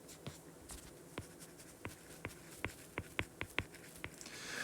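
Marker or chalk strokes on a board during a lecture: a quiet series of short, sharp taps and scratches, spaced irregularly then quickening toward the end, with no talking.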